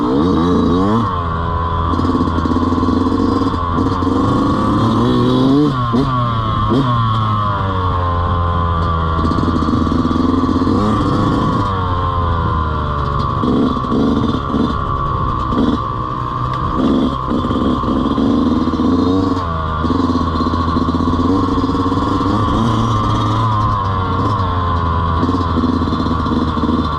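A dirt bike engine revving hard as a new rider pulls away, loud and close throughout, with the pitch rising and falling through repeated throttle surges over a steady engine drone.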